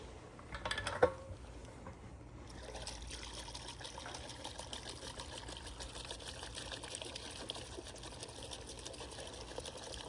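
Liquid pours and trickles steadily at low volume, with a small splash near the start, then a continuous faint flowing stream.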